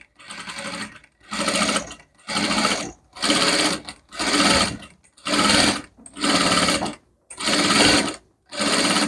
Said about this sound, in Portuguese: E vem costurando, olha.